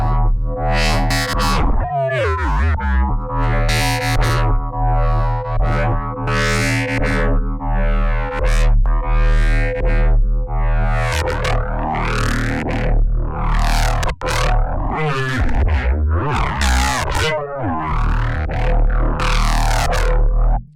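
A loud, distorted synth bass growls and wobbles through repeated sweeping, modulated notes, heavy and continuous for the whole stretch.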